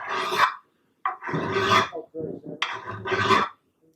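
A metal file rasps across an edge in several long, gritty strokes, close by, with short pauses between each stroke.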